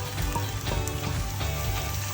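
Cashews and garam masala frying in a pan, a continuous close sizzle with crackling pops, loud and steady with no talking.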